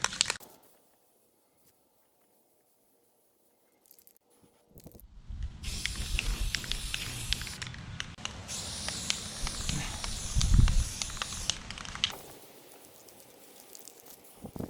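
A spray can hisses in bursts as paint goes onto the rusty bay of a Class B van outdoors, with a long quiet start, then a sustained close spray for several seconds before it fades to quiet again.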